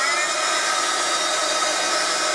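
A hair dryer blows steadily on paint on a canvas, a loud, close, constant whoosh with a high whine and no pauses or speech.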